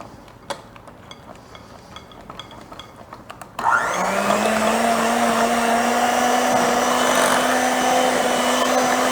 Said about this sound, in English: Now I'm going to get my hand mixer.